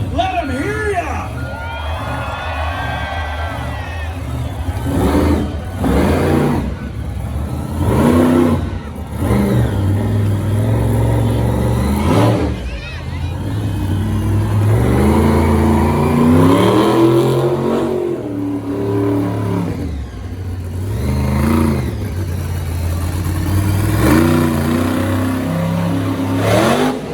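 A monster truck's engine fires back up and revs hard at a Costa Mesa arena show, its loud roar rising and falling in repeated throttle blasts over an excited crowd while an announcer talks throughout.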